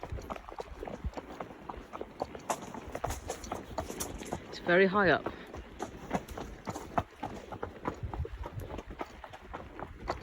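Horses' hooves clip-clop steadily over the high Divvy Viaduct, a close, continuous rhythm of shod hooves on the crossing, with a person talking briefly partway through.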